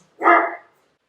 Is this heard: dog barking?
yes